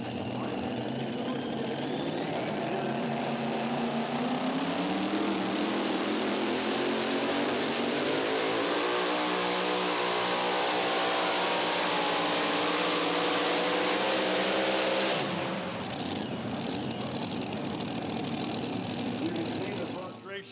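A mini rod pulling tractor engine screams at full power during a tractor pull at the National Tractor Pulling Championships in Bowling Green, a loud sustained roar whose pitch climbs and then drops sharply after the run, with an announcer talking over it.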